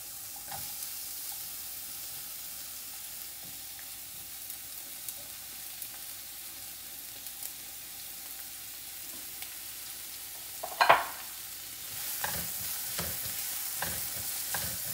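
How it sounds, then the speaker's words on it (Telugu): Chopped onions sauté in hot oil in a pan, giving a steady, soft sizzle and crackle close by, with a brief louder spatter partway through and no talking. "2-3 మినిట్స్ పడుతుందండి సాటే అవ్వడానికి."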